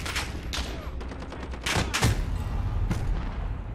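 Bursts of gunfire in a Call of Duty battle royale match, several rapid volleys and sharp single shots in quick succession, loud and close, with a brief boom near the middle.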